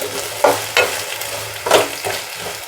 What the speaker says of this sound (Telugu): ఆలుగడ్డ చూడండి, బాగా నూనెలో కొద్దిగా ఫ్రై అయింది,